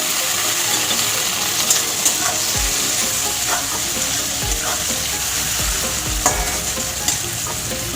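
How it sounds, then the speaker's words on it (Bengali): Chopped tomato and onion frying in a pan, a loud, steady sizzle with occasional soft knocks and scrapes of a spatula stirring. "এটা ভালো করে একটু ভেজে নেব।"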